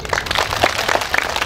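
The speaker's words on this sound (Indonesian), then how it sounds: "Tepuk tangan dulu." Brief clapping from an audience at a humorous Bugis-language sermon, a short patter of hands close by and moderately loud.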